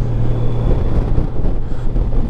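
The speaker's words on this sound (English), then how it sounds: "Engine sounds lovely." A 2018 Honda Goldwing motorcycle engine drones low and steady while riding, its rumble mixed with buffeting wind noise over the microphone.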